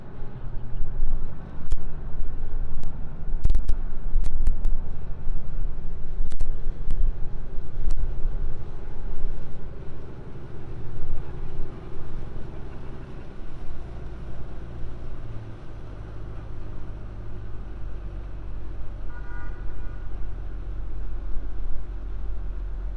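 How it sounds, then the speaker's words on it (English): The Queen Mary 2 ocean liner's engine drones low and steady for a long stretch on the River Mersey, with wind buffeting the microphone and occasional sharp clicks early on. "Listen to that engine."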